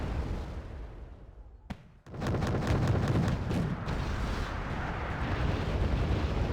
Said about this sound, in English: Mortar strike coming in there, trying to stun the units again.